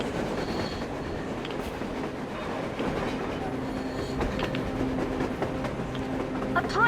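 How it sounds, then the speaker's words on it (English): A train on the surface in the video game Metro Exodus rumbles and clatters steadily, with wheel clicks and a squeal near the end, heard over game ambience and a bit of background voice. "A train! A damn train on the surface!"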